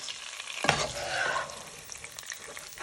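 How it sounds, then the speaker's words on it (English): Chicken pieces for katsu curry hitting a hot pan and frying, a close steady sizzle with a sharp crackle burst as they go in, then continuous hiss and spitting. "Now you want to place in your chicken into your hot pan"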